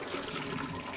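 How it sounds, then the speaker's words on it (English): Water pours off freshly boiled potatoes as they are strained, a brief steady splashing trickle that stays moderately loud for its full second. "We're going to strain them a"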